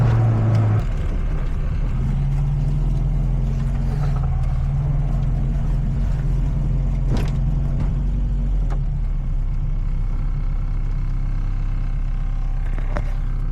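Classic Mini driving on a road test, a steady loud low engine drone and road rumble running throughout with small shifts in pitch, close and noisy, no talking.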